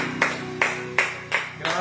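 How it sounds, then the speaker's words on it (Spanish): A church congregation claps together during an evening worship service, giving five sharp, evenly spaced claps in a steady rhythm over a low background hum. "Le damos ese aplauso al Señor en esta noche."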